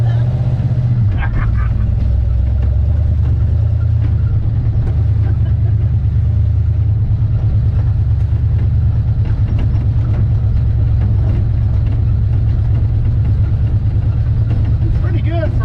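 A 1951 Mercury truck engine runs steadily for the whole stretch, a loud, low, even rumble with a brief rise near the start, while people talk over it now and then.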